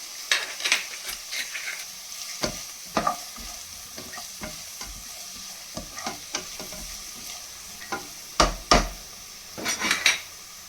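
Vegetables including carrot half-frying in a pan for white sauce pasta, with a steady sizzle under repeated clinks and scrapes of a spoon stirring against the pan, close and fairly loud.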